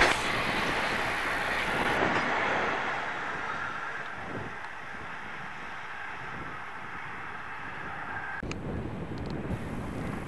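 An early-type EF70 electric locomotive hauling a train on the Hokuriku Main Line rolls past close by, a loud rushing rumble with rhythmic wheel clatter and wind buffeting, fading slightly before a final burst of noise.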